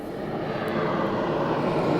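A jet airliner carrying a returning football team taxis toward its gate at a Seattle airport, its engines a steady, loud, broadband roar that swells slightly throughout, with no voices.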